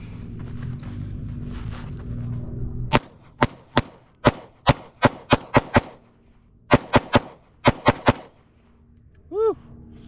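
A string of sharp, loud Staccato HD pistol shots fired outdoors, with two quick clusters of rapid reports separated by a short pause, and a brief tonal ring at the end.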